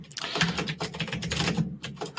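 Rapid typing on a computer keyboard, a steady run of close, light clicks and keystrokes with no speech over it.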